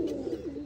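A pigeon held in the hand gives a short, low, soft coo, close and alone.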